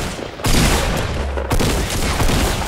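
Bursts of rapid gunfire from a Fortnite match, with two loud volleys starting abruptly and continuing densely, the shots close and loud with no talking.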